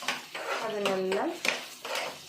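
Whole spices for donne biryani (star anise, cinnamon, cardamom and cloves) lightly frying as a spoon stirs and clinks against the pot, with a brief voice-like murmur in the middle.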